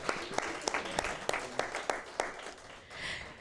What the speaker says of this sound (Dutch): alvast een applaus voor Michael Verhette